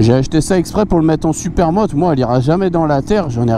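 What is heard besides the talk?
No everyday noises stand out.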